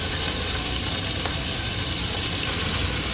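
Chicken pieces sizzling loudly in a hot pan as they are flipped for chicken noodle soup, a steady dense crackle and hiss throughout, close up with no talk.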